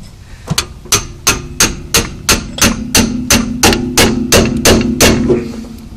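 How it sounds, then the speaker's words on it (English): A hammer strikes a car's lower ball joint about fourteen times in a steady rhythm to break it free, each blow a sharp ringing metal clank close by, with no talking. "Some cars you can whack this with a hammer too."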